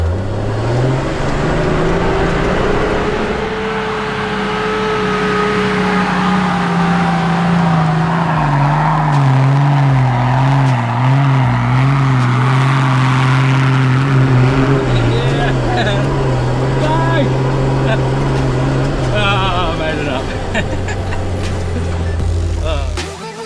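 4x4 vehicle in fourth low with both lockers engaged, engine revving hard and wavering as it climbs a rugged Tasmanian mountain track, loud and close throughout with people talking over it.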